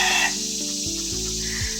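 A farm rooster standing among goats gives a few short, low clucking calls close by over quiet outdoor background, with no voices.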